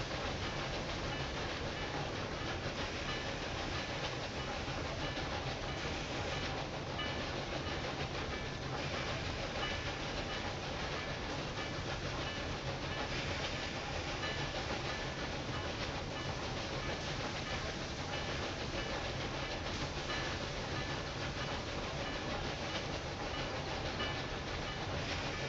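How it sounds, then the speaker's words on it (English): Train running on rails in the railway management game Railway Empire 2, a continuous dense rumble and rattle of wheels on track that holds steady and close throughout, with no voices. "there's the other train coming in."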